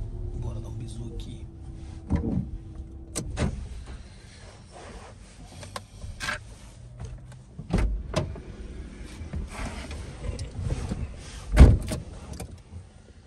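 A car door is opened with a few sharp clunks and latch clicks amid engine and cabin rumble, with someone talking nearby.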